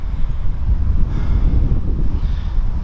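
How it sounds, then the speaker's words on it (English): Strong wind buffets the microphone outdoors under oak trees on a gusty day, a loud, continuous low rumble with no talking. "it's a very windy day, and I got those oak trees above me"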